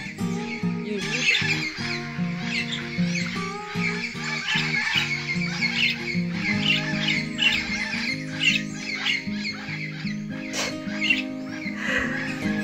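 Harsh squawking bird calls repeat over a steady background of tonal music, loud and busy throughout.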